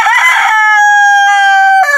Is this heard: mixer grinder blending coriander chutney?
no